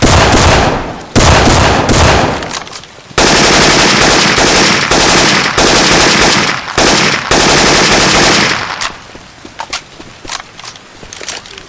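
Loud bursts of automatic gunfire using Syphon Filter weapon sounds ring out in Left 4 Dead 2, dense sustained volleys broken by short pauses, then trailing into scattered lighter clicks and shots near the end.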